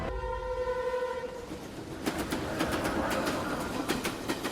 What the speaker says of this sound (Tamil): ரயிலின் இதமான சத்தத்தில் பெரும்பாலான பயணிகள் தூங்க ஆரம்பித்திருந்தார்கள்.